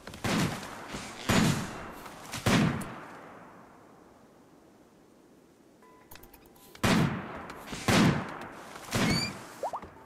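Gunshots from colonists hunting animals in RimWorld: several sharp, loud cracks in small clusters with a quiet gap in the middle, each shot decaying quickly.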